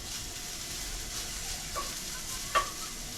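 Vegetables softening in a frying pan give a steady, moderately quiet sizzle and hiss, with a couple of brief sharper spits near the end.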